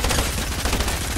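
Submachine gun fire rattles in the video game Fortnite, a continuous rapid burst of close, loud shots running unbroken for about a second with no talk.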